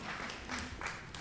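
At a city planning commission public meeting, the audience gives a short, fairly loud round of clapping that carries steadily and evenly to the end.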